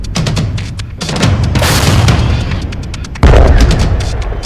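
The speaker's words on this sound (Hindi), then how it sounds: "इसमें बहुत ही सटीक माने जाने वाली तोप का इस्तेमाल हो रहा है।" Heavy artillery cannon fire from the Russia-Ukraine war front: loud, booming blasts roll on with rumbling echoes, and a sharper, louder shot lands near the end. No voices are heard.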